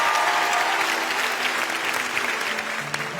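An audience at a live stage show breaks into loud, dense applause as a volunteer walks up, the clapping steady and close for about three seconds before tapering slightly.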